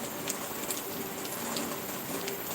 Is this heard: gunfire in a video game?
no